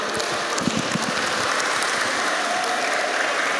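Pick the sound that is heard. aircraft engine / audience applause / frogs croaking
audience applause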